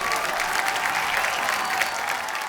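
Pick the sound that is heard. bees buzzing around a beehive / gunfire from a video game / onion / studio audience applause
studio audience applause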